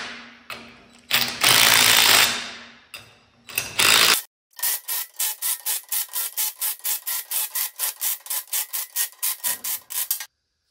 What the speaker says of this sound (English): then torque wrench.